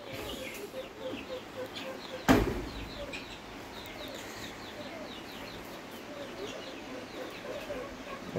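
Pheasants call repeatedly in a pen at a farm, producing scattered short, fairly faint calls over a soft background, with one sharp louder knock partway through.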